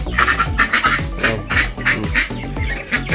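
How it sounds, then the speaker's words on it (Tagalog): White Peking ducks on a farm quacking loudly and close, a busy overlapping run of raspy calls with several birds at once and no talk. "Peking duck ang tawag dyan mga kababayan"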